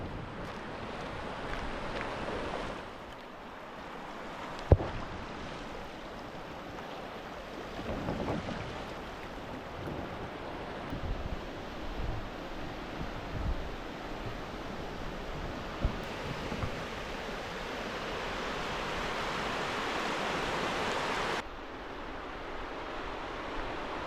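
A river rushes near Burney Falls in Northern California, a steady broadband roar of moving water heard fairly close with some wind buffeting on the microphone, growing slightly louder toward the end.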